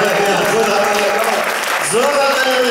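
A church congregation claps together at a meeting in Hallunda Church, Stockholm, with the clapping running under loud amplified speech and a voice singing or chanting over it.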